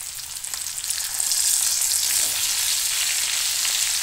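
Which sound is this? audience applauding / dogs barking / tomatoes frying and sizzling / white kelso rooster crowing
tomatoes frying and sizzling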